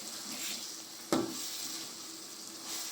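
Chili sambal sizzles as it fries in oil in a pan. A continuous hiss is broken once by a single sharp scrape of the spoon against the pan.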